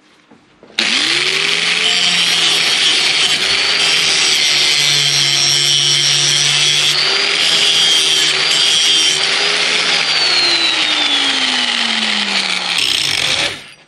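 An angle grinder sharpens a lawn mower deck blade from the top side: a loud, continuous abrasive grinding whine that holds steady for about twelve seconds, its pitch drifting up and down as the grinder is worked back and forth, then cutting off.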